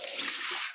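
Hot water and boiled potatoes poured into a kitchen strainer, a brief close splashing hiss that fades quickly.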